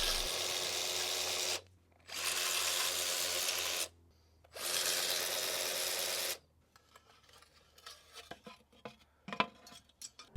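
A power tool removes the bolts from the front fender of a vintage Honda in three loud, sustained whirring bursts of about two seconds each, followed by quieter metallic clinks and rattles of parts being handled.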